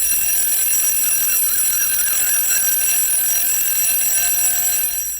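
An alarm clock rings loud and continuous, a shrill steady electronic tone holding for about five seconds with no voices.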